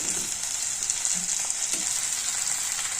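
Chopped potatoes sizzling and frying steadily in a hot pan for aloo kurma, a continuous close hiss with faint stirring clinks, no voices.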